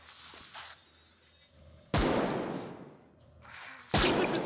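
Assault rifle fire in the zombie shooter video game Death Horizon Reloaded: two loud, separate bursts of booming shots, each trailing off in a long echo, with quieter game sounds between them.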